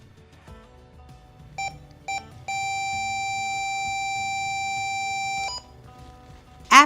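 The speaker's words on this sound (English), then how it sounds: "you will hear a beep, letting you know that your treatment is done" A TD-300 treatment device gives a couple of short electronic beeps, then a long sustained beep tone lasting a few seconds marking the end of treatment, followed by quiet and a brief click.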